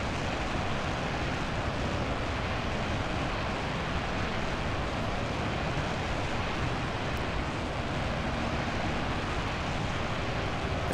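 Roaring jet engines of an Avro Vulcan bomber in Microsoft Flight Simulator 2024, heard from a chase view as a loud, steady broadband rumble that runs unbroken with no talking.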